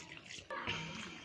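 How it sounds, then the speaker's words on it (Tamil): Water is poured into a pan of cooking offal (goat intestine curry with turmeric and salt), a brief close splashing rush of liquid that starts abruptly partway through and continues steadily. "இப்போ கொஞ்சமாக தண்ணி ஊற்றிட்டு"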